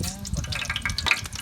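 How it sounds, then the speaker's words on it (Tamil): Oil bubbling in a pan for Chennai-style biryani as cloves and cinnamon go in, a steady close sizzle with light stirring and scraping clatter throughout. "எண்ணெய் கொதிச்சு லவங்க பட்டெல்லாம் போட போகிறோம்"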